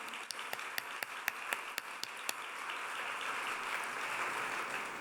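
A short burst of sharp hand claps from a small group at an awards ceremony, quickly fading into a steady background hiss.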